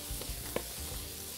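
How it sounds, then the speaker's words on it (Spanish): Paprika frying in extra virgin olive oil gives a steady, close sizzle, with a few soft stirring clicks from a utensil in the pan. "Mezclo un poco para que se vaya friendo"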